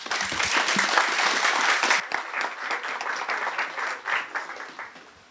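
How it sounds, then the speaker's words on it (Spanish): Audience applause at an academic conference session, a dense sustained clapping from a room full of people that fades and thins toward the end. "así que les pido un fuerte aplauso."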